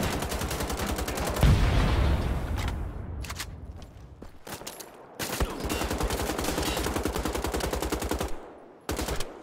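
Gunfire in Wolfenstein: The Old Blood, heard as bursts of rapid automatic fire with a heavy burst early on, then more spaced single shots, all loud and close, with no talk.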